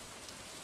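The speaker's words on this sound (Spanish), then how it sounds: "Con esta lluvia creo que vamos a tener mucho pique." Steady rain in the farming video game Stardew Valley, a soft continuous hiss of falling drops with no other sounds over it.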